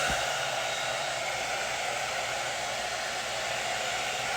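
A hair dryer blows steadily and loudly from start to finish, a continuous airy roar close to the listener with no pauses and no voices.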